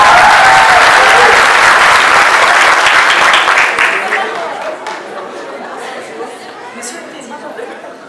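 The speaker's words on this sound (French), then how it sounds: "Sous vos applaudissements, mesdames et messieurs." Applause from the audience at a business school graduation ceremony, loud and dense at first, then fading gradually into a thinner patter of claps while people talk and murmur in the hall.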